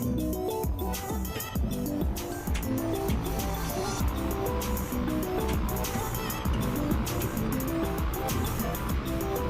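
A piston aircraft engine in a video game holds a steady, rough droning hum during a magneto test, its rpm level throughout with a faint engine rattle.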